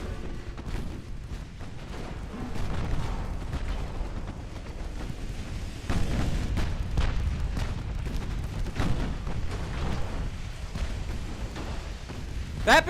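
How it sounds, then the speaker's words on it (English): A battleship sinking during a naval battle in Ultimate Admiral Dreadnoughts, with steady low rumbling booms of distant gunfire and explosions rolling through, partly under a talking voice. "As another battleship sinks."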